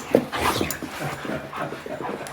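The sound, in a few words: puppies panting and whimpering in welcome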